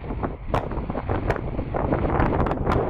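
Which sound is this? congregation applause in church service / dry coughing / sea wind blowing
sea wind blowing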